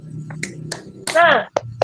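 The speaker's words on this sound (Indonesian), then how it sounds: "kita tepuk semangat sekali lagi sama-sama" A group does the Indonesian 'tepuk semangat' rhythmic clap during a teacher training session: a few sharp claps in quick succession, then voices chanting together in chorus.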